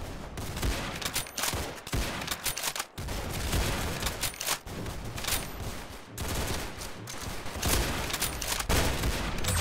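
Rapid gunfire in the Roblox Arsenal game, dense bursts of shots arriving in several loud clusters separated by brief gaps of near-silence.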